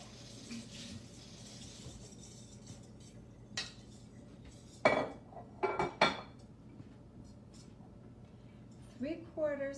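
A whisk beats batter in a bowl in a kitchen as milk is added: scattered clinks and scraping bursts, loudest in the middle, with a voice briefly near the end.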